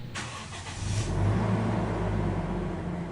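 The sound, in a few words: Toyota Innova engine starting and idling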